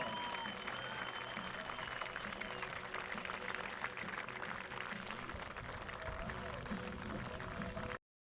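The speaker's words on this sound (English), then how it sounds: "please give him a round of applause one more time" Race fans at Lake Ozark Speedway, a dirt track, applaud driver Jason Russell in a steady, distant crowd roar of clapping that holds evenly for several seconds, then cuts off abruptly.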